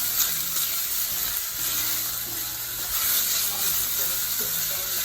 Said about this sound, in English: in there I'm just sauteing some onions, ginger and garlic